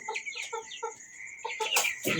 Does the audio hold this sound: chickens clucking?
yes